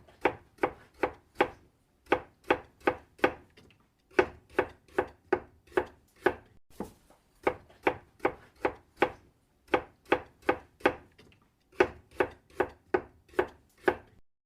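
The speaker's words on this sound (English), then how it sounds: "Ginger, minced." A knife minces ginger on a cutting board for pork katsu curry, with fast, evenly spaced chops hitting the board up close in several quick runs separated by brief pauses.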